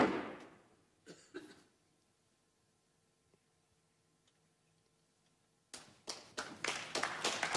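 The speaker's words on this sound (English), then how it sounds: "He gets a clap." Short bursts of clapping from a snooker crowd, a brief patter at the very start and around one second, then near-silence before a fuller round of applause rises and carries on to the end.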